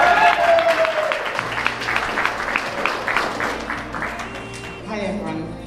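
Wedding guests applaud and cheer as the maid of honor is welcomed, a dense burst of clapping from a crowd over several seconds that fades toward the end, with voices mixed in.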